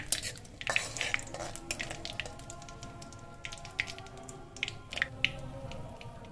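Cardamom pods and a bay leaf are stirred in hot ghee in a pan, giving close, repeated metallic scrapes and clinks of a spoon against the pan over a soft, steady sizzle.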